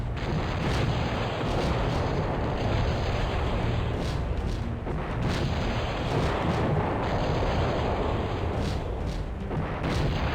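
Machine gun fire in the Cossacks strategy game, continuous dense booming gunfire and artillery-like blasts rolling on throughout, with periodic louder bursts, no talk.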